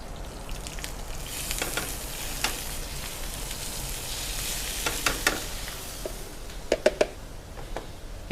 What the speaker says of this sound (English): You can hear that sizzling away.